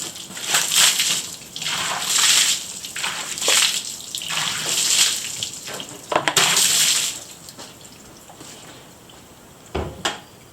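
Water poured and splashed over a Frontrunner Wolf pack box during a water resistance test, coming in irregular bursts of sloshing and spattering with short pauses and a few knocks against the box.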